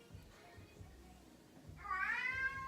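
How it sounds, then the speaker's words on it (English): A house cat named Missy meows in a short, clear rising call near the end, heard close by over a faint low background hum. "that's the cat"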